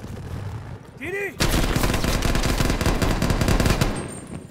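Gunfire in the shooter video game Call of Duty: Black Ops Cold War: a short musical swell, then loud, dense bursts of automatic fire that continue steadily for several seconds.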